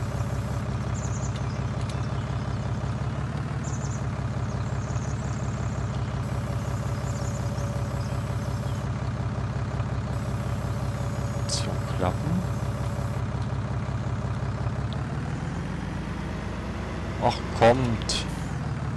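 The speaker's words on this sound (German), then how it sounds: "Irgendwie will der Traktor nicht richtig fahren." Tractor engine in the farming game Landwirtschafts-Simulator 19, struggling to drive properly, with a steady low drone that shifts in pitch near the end and a few faint clicks.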